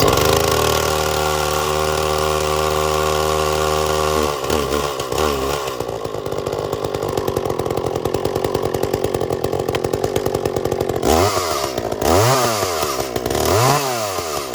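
An Echo CS 400 chainsaw runs loud and close in a steady, buzzing idle. It then rises and falls through uneven throttle changes, ending in several sharp rev blips, with no voices over it.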